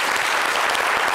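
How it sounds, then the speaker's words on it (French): Sustained audience applause at a French-language evening talk show, a dense steady wash of many hands clapping that fills the whole moment without a break. "D'accord, ça s'applaudit."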